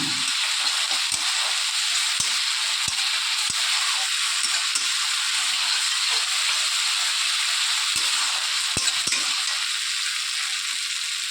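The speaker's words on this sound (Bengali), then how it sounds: "পেঁয়াজ আর আদা রসুনের যে পেস্টটা দিয়েছিলাম সেটা একটু কষিয়ে নিচ্ছি তেলের মধ্যে" Onion, ginger and garlic paste fries in oil for an egg curry, a steady loud sizzle and hiss filling the space, with occasional faint stirring clicks and no voices.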